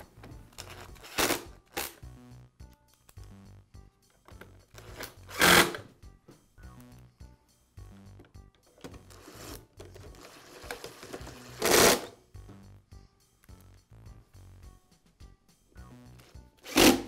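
Screws being driven back into the housing of a Bostitch air compressor, giving short whirring bursts from a driver, with scattered clicks and handling noises between them, close by and fairly quiet.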